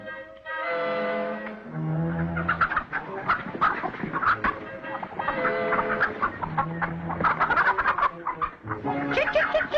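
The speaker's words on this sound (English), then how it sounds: "Chickens." Chickens cluck steadily in a farmyard, with overlapping near calls and clucks forming a busy, continuous flock chatter and no voices on top.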